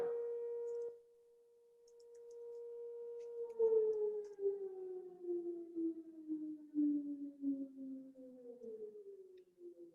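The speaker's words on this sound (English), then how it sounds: "We have the siren going on, so we gotta wait." A long, droning outdoor siren wails, holding a steady tone before slowly sliding downward in pitch as it winds down, with faint background noise, in Forest Hills borough.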